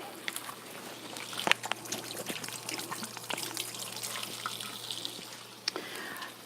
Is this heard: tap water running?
yes